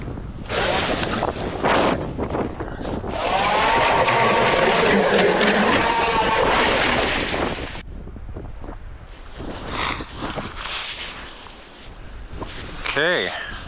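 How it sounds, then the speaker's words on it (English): Strong gusting wind buffeting the microphone outdoors on a frozen lake during an ice fishing competition, roaring in bursts with someone talking between gusts. "I'm blocking the wind because we got crazy winds"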